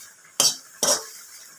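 A metal spatula chops greens in a cooking pan with two sharp, close scraping strikes about half a second apart, set against a faint background sizzle.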